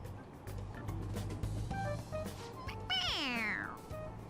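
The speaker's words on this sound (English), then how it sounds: "It meows when you press on its head." A toy cat gives one clear rising-then-falling electronic meow when its head is pressed, close and fairly loud over game music, with faint talk around it.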